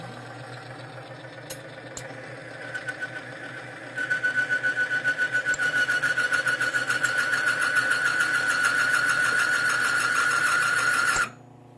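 An NNL 690 Timken bearing test machine powers up and runs, a motor whine rising into a steady tone with a rhythmic mechanical pulse for several seconds before cutting off abruptly.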